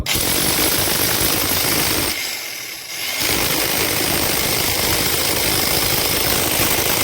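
Jackhammer pounding continuously at close range, loud and steady, with a brief pause near the middle before the hammering resumes.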